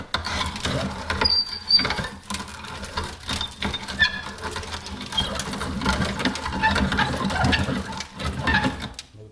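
Chunks of chaga are ground in a hand-operated meat grinder, giving a continuous close crunching, grinding rattle with uneven scraping bursts and no voices.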